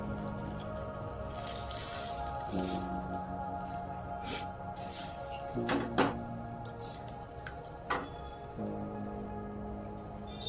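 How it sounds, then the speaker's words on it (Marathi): Water drips and squishes into a pan of cooking chakvat greens with a few sharp splashes over a low steady hum, close and quiet. "यात आता थोडंसं पाणी ॲड करायचं आहे आपल्याला"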